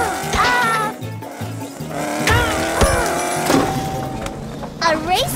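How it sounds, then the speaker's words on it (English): Cartoon race car from a children's animated jungle scene, a morphing character turned into a race car, with engine-like whirring and tire squeals under busy music and effects, with voices. "A race car isn't so fast in the jungle"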